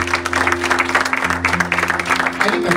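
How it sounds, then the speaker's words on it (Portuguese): Church congregation claps during a Sunday worship service, a dense, loud, rhythmic patter of many hands over sustained music tones. "Aplauda o Senhor."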